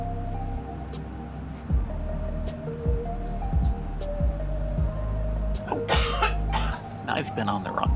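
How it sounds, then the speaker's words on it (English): A person coughs repeatedly in harsh, throaty bursts, with some throat clearing and several close, loud coughs clustered near the end, over a constant background hum. "you're gonna hear me coughing all night long"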